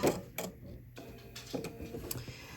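A sewing machine stitches swimsuit elastic into a loop, making a quiet, uneven mechanical ticking and whirring in short bursts with brief pauses between, close and fairly soft.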